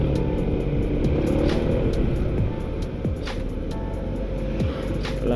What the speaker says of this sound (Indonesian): Wah, ada truk ternyata ya.